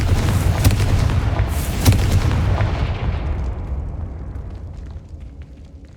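A Confringo blasting spell erupts in Hogwarts Legacy, a loud booming explosion with sharp cracks near the start that rolls out into a long rumbling decay.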